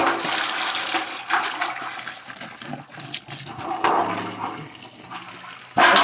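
Water pours and splashes out of a chicken waterer in a hot outdoor yard, a continuous gushing stream that rises and dips, ending in a sudden louder splash.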